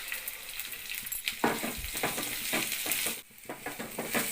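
Mustard seeds, cumin, urad dal and chana dal crackle and sizzle in hot oil as a tempering for amaranth leaf stir-fry, with close, irregular popping and scraping stirs of a spoon in the pan.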